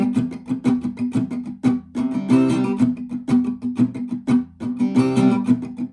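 Acoustic guitar strummed through the first line of a chorus of a song, Old Phone Pub version, in a steady rhythmic pattern of full chords with a few louder accented strums, played alone and close.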